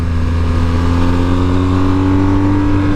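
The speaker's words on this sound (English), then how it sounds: "That's rev limiter." BMW GS 1250 motorcycle engine holds at high revs against the rev limiter, a loud, sustained, steady droning whine with strong tonal harmonics and no speech.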